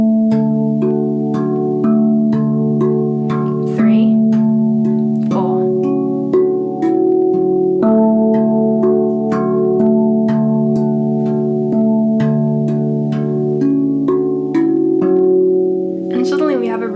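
A handpan plays a looping groove of resonant, ringing tones, with a phrase repeated several times before its second half comes in. Struck notes sustain and overlap at a steady, moderately loud level, and a voice speaks briefly over the playing.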